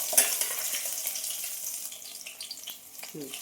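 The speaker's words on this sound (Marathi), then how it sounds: "मी आता याला तळून घेते तर हलक्या हाताने थोडे थोडे टाकायचे हो" Soybean chunks dropped a few at a time into hot oil, giving a steady close sizzle and bubbling throughout with occasional small splashes and clinks.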